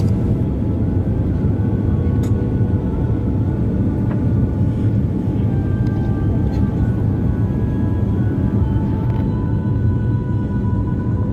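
Constant low cabin rumble inside an airplane descending for landing, steady engine and airflow drone close and unbroken, with faint clicks and tones over it and no speech.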